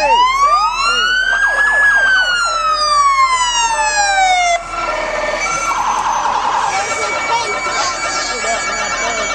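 A police car siren rolls through a Christmas parade in Anderson, South Carolina, in 2022, loud and near, sweeping up and slowly down in a long wail, then cutting over to a rapid, piercing yelp, with voices faintly beneath.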